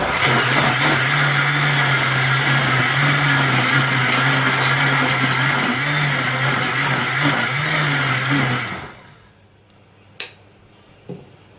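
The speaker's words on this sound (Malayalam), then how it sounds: "ആ ചുളയെടുത്ത് ഇതുപോലെ മിക്സിക്കകത്ത് വെള്ളം ഒന്നും ഒഴിക്കരുത്, അങ്ങ് അടിച്ചാൽ മതി" Mixer grinder whirring loudly at a steady high pitch while blending ripe jackfruit pulp without water for kumbilappam, running for about eight seconds before switching off and spinning down, followed by a couple of faint clicks.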